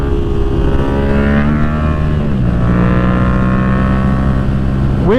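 A Yamaha MT-07 motorcycle engine revs hard under acceleration during a wheelie, pitch climbing, dipping at a shift and climbing again, loud and close with steady wind noise.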